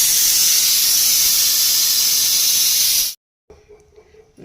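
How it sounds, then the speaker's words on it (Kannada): Spices for tempering sizzle loudly in hot oil for a lidded village-style lentil curry and sprouted gram stir-fry, a steady close hiss lasting about three seconds that cuts off abruptly, followed by faint clinks and quiet noises. "ಸ್ವಲ್ಪ ಒಗ್ಗರಣೆ ಕೊಟ್ಟರೆ ಚಲೋ ಆಕೈತಿ."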